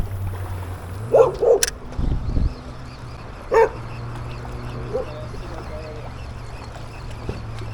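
A dog barks a few times in short bursts near an early-morning Jamaican shoreline where people are lure fishing, with a low steady engine-like drone underneath and one more bark after a pause.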